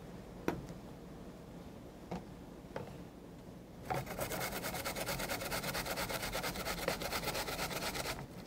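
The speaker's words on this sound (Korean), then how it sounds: "배는 껍질을 제거 후 강판에 갈아" A peeled pear is grated on a grater to make juice, giving a faint, fast rhythmic scraping that runs continuously through the second half, after a few light taps and knocks.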